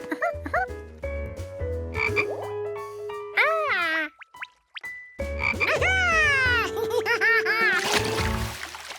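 A cartoon toy frog that makes bubbles, croaking in bursts of bright, springy, warbling calls with boing-like pitch sweeps over a lively musical backing, with a brief near-silent pause midway.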